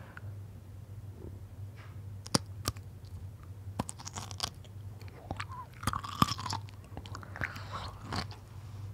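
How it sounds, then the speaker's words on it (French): Crisp crunching bites into a pickle, several sharp cracks and chewing crunches spread irregularly over a low steady hum, close up and quiet. "Je vais croquer dans le cornichon et ça va faire..."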